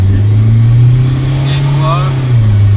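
A Toyota 3S-GTE engine paired with an automatic gearbox revs steadily in first gear, a loud, close, continuous mid-pitched drone that holds level before dropping slightly near the end, with brief voice traces over it.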